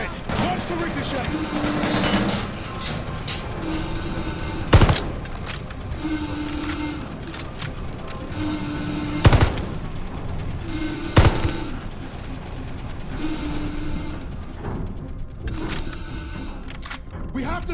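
Gunfire rattles through a Call of Duty Vanguard battle aboard a train bound for Hamburg, with dense bursts and several sharp loud shots standing out over a busy mix of battle noise and shouted voices.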